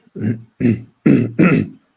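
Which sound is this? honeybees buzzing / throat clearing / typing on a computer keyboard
throat clearing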